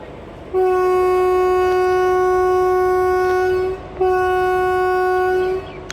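A loud, sustained horn from the Rameswaram Amritha Express train blasts for about three seconds, pauses briefly, then sounds again for nearly two more seconds.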